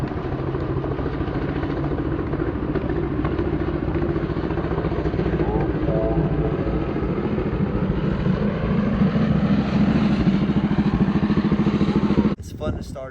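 A Flying Merkel board track racer motorcycle runs steadily with a loud, continuous engine drone, heard up close throughout before cutting off abruptly near the end.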